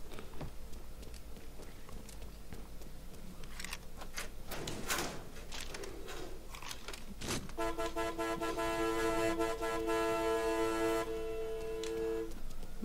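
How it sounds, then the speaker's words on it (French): Car horns honking in the video game Mafia 3, several steady tones sounding together and sustained over the second half, loud over a bed of game noise with a few sharp bangs earlier. "c'est les renforts qui klaxonnent comme ça"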